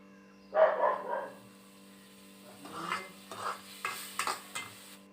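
A ginger, garlic and tomato paste cooks in oil for chicken gravy, with quiet intermittent stirring and scraping bursts over a low electrical hum.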